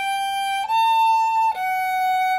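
A violin plays slow, sustained single notes, each held steadily, with clean changes of pitch from one note to the next. It sounds alone and close, with no talking.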